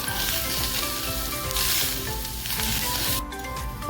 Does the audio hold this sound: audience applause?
no